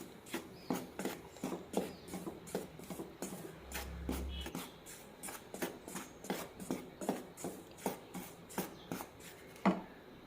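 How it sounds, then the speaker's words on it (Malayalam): Ragi and rice flour are dry roasted in a pan over a low flame. A spatula makes steady, rhythmic scraping clicks about twice a second, close and fairly quiet, with no talking. "പൊടി രണ്ടും നന്നായി ചൂടാകുന്നവരെ വറുത്തെടുക്കാം"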